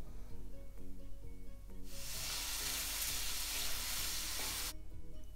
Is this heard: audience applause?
no